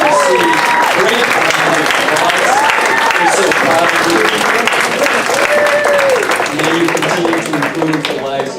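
Sustained applause from a seated crowd at a PEP luncheon, loud and dense throughout, with a voice speaking over it.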